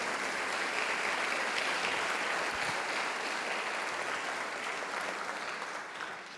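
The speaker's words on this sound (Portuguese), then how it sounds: "Vamos aplaudir Jesus pela vida desses irmãos." Church congregation applauding during a worship service, a dense steady wash of clapping that fills the whole stretch and eases off slightly toward the end, with no voices standing out.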